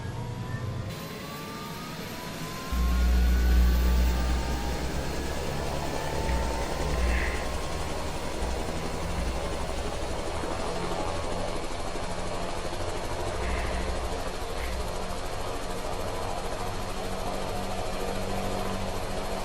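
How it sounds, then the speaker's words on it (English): H-125 helicopter rotor spinning up in Microsoft Flight Simulator 2020: a steady turbine whine and droning engine hum rise after a few seconds and hold at a continuous, fairly loud level, with faint tones drifting above. "Okay, there goes the rotor."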